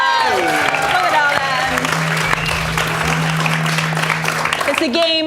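An audience at a live game show claps in steady, dense applause that runs throughout, with someone talking over it.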